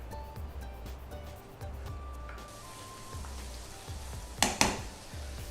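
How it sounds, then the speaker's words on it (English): Ginger, garlic and chopped green chilies saute in a pan with a soft, steady sizzle, broken near the end by a sharp double clatter of a utensil. "Now I'll saute them."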